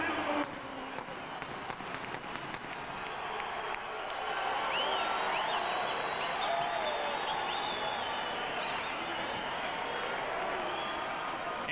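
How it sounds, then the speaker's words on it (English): Boxing arena crowd roaring and cheering loudly and continuously as a fighter enters the ring, a dense wash of voices that swells louder midway and holds, with an announcer talking over it. "An explosive eruption in the arena as Vargas emerges into the ring."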